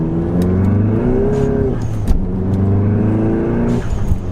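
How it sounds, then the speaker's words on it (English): VW MK7 GTI with a single mass flywheel clutch, a loud close growling chatter from the engine bay at low revs, a rough rumbling drone that rises slightly and then settles. "like growling sound that you hear from the engine. That is clutch chatter."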